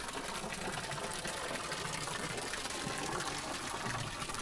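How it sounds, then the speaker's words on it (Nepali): Water pouring steadily from a traditional stone spout at Chandragiri Hills, a continuous, dense rushing splash that stays even and fairly close throughout, with no voices over it. "ढुङ्गे धारामा कस्तो मजाले पानी आइरहेछ हेर्नुहोस्"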